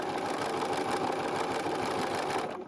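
A sewing machine runs steadily close by, stitching fabric cut on the bias, a continuous even mechanical whir that slows only at the very end.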